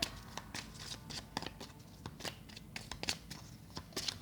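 Playing cards shuffled by hand during a card reading, a steady run of crisp riffling flicks and soft slaps, close and fairly quiet, with no talking.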